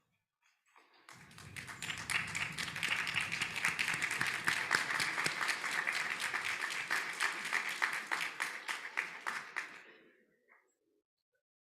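Audience applause at a medical school commencement ceremony, a dense crowd of clapping that swells in, holds steady for about eight seconds and fades out, with a brief voice at the start.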